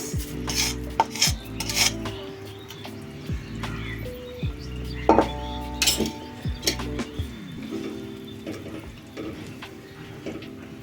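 Lachha vermicelli going into a pot of payesh is stirred with a spoon, giving soft rubbing scrapes and intermittent metallic clinks against the pot over a low, steady hum.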